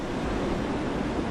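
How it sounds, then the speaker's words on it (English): Ocean waves break on a reef in a broad continuous wash of surf, with wind rumble across the microphone, close and steady with no voices. "This is pretty close to the waves that we would surf"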